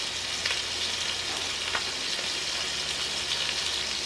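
Pork loin sears in a hot pan with a steady, loud, continuous sizzle. The crackling frying noise runs unbroken throughout, and no one talks.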